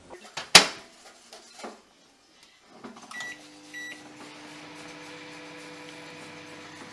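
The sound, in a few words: microwave oven running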